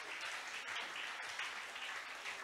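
A church congregation applauds for Jesus, steady faint clapping that runs throughout, with no voices over it.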